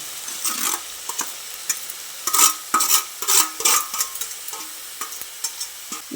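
Boiled cabbage and ground spices stirred in a sizzling pan for a vegetarian dish, with a spoon scraping and clinking in uneven bursts over a steady frying hiss, close and moderately loud.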